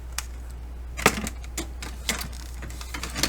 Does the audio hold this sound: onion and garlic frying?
no